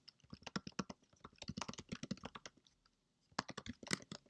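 Fingers type on a laptop keyboard in quick bursts of crisp clicks heard close up. Two runs of typing are split by a short pause, and the room is otherwise quiet.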